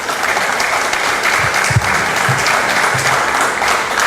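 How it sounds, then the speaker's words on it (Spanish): An audience at a public talk breaking into sustained, dense applause that fills the room evenly, with a few louder claps standing out and a faint voice underneath. "el ingeniero Eric Márquez Requena, a quien recibimos con un caluroso aplauso en esta parte de la ponencia."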